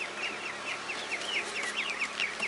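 Chickens cluck in quick repeated bursts at a market, fairly close, over a steady noisy background with no talking.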